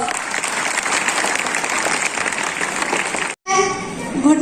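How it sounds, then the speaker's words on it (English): A large audience gives a big round of applause for a school drama performed by students at a Dr. B.R. Ambedkar Jayanti celebration, dense sustained clapping that breaks off briefly near the end before the noise resumes. "Please welcome them by a big round of applause."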